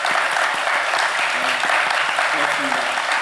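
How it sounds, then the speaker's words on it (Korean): A church congregation claps steadily through an elder ordination ceremony, a dense, close wash of applause with faint voices murmuring underneath. "우리 박수로 우리 축복하겠습니다."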